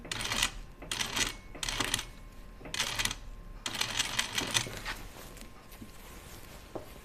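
A sewing machine stitches a back tack on a dress seam, running in short bursts of rapid mechanical clatter separated by brief pauses, fairly close and with no talking.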